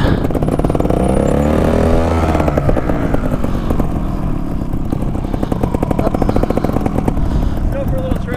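A trials motorcycle engine runs steadily at idle close by, its rapid mechanical chatter continuous throughout, with a person talking over it.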